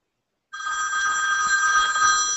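Electronic telephone ringer starts abruptly and rings continuously with a bright, steady warbling tone, loud and close, with no voices.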